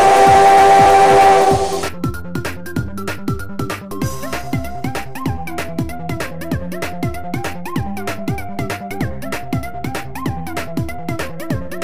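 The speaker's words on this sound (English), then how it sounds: "I'm proud of my whistle and enjoy letting it rip when I get the chance." A steam train whistle shrieks loudly for about two seconds, then gives way to the rhythmic chuffing and clatter of the moving locomotive, with no talking.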